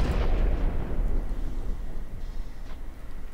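An explosive CRAM cannon shell detonates in the naval combat game From The Depths: a heavy, rumbling blast at the start that rolls off into a long, fading low roar.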